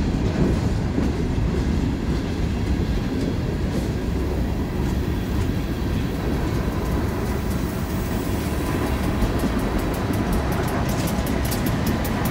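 Train passing on railroad tracks in the rain at a crossing: a steady, loud rumble of rail cars rolling by with rhythmic clickety-clack of wheels over joints throughout.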